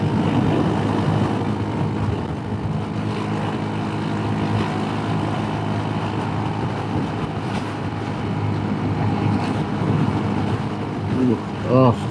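Steady, loud wind roar buffets the rider on a scooter ridden at speed through the Great Lakes region, mixed with a constant engine drone, and a brief voice comes in near the end.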